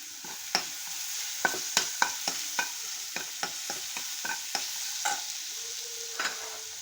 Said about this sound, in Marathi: ही पेस्ट अशी चांगली परतून घ्यायची आहे